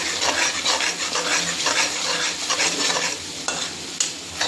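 Dal is stirred in a pan with chili powder and salt for a Kerala parippu kuthikachiyathu, giving a continuous close scraping stir over a steady sizzle, with no talking.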